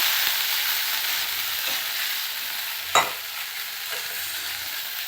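Poppy seed and cashew paste sautés in a pan, giving a constant bright hiss with soft scraping strokes of a spatula and one sharper knock about midway. Close and without speech.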